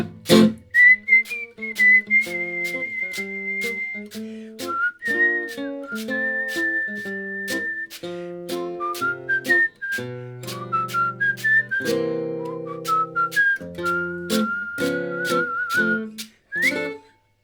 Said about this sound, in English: don't know why I thought whistling would be good